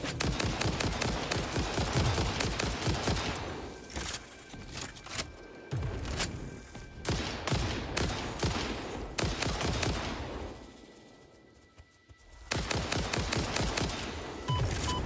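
Rapid automatic gunfire from the factory-building video game Satisfactory, sustained bursts of loud shots that briefly ease off, then resume before stopping and returning abruptly for a final burst.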